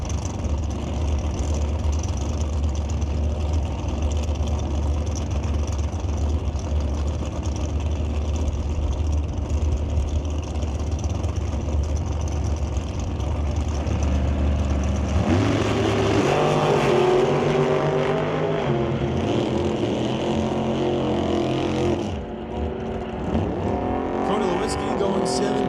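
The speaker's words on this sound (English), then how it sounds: "TNT Dragster versus the Undercover Dragster." Dragsters racing at Mission Raceway Park's outlaw shootout drag strip, a loud sustained engine roar that swells into a harsher, rising blast midway, with an announcer talking over it throughout.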